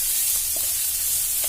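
Sliced onion and green chilli sizzle steadily in a hot frying pan, a close, continuous hiss with a few soft stirring scrapes and no voices.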